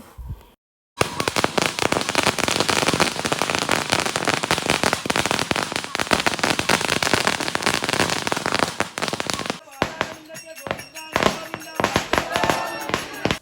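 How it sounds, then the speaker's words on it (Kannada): Firecrackers set off after a Navratri puja at a family home, a dense, loud, rapid string of crackling bursts lasting several seconds, followed by a few scattered pops and clatter. "ಪೂಜೆ ಪೂರ ಸಾಂಗವಾದ ನೆರವೇರ್ಂಡು ಅಕ್ಕೇರಿಗೆ ಪಟಾಕಿ ಬುಡಿಯ."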